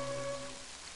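Soft rain patters in a forest scene of the video game Mother 3, a faint steady hiss under a brief held musical tone that fades out.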